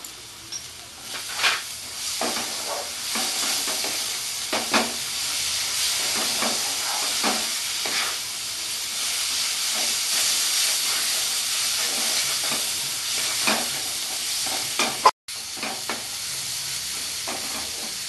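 Cumin paste fries in a hot pan for a Bengali raw jackfruit and prawn curry, a loud continuous hiss and sizzle with repeated stirring scrapes and taps, one abrupt cut near the end.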